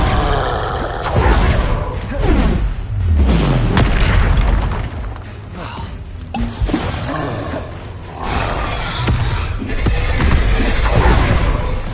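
Confringo explosive spell blasts in Hogwarts Legacy combat, with loud booming detonations and rumbling impacts layered over dense game effects, repeating in surges across the clip.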